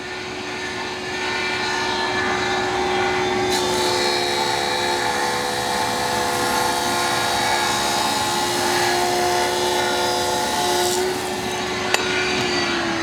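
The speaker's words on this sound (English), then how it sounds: "Now the advantage of resawing on your bandsaw" A bandsaw resaws a cocobolo log, producing a steady, close-up droning whir with a constant tone that runs evenly for over ten seconds, then a brief click near the end.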